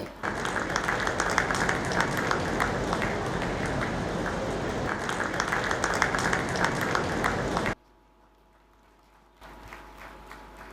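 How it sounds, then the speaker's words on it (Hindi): An audience at a community gathering claps together in a dense, loud, sustained burst for several seconds, then it cuts off abruptly to near silence. "इनके लिए जोरदार तालियां बजनी चाहिए"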